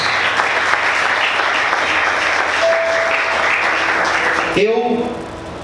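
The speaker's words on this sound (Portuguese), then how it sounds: "Vamos aplaudir o Senhor, amém?" A church congregation applauds during a worship service, a steady wash of many hands clapping for several seconds before tapering off, with a voice speaking over the end.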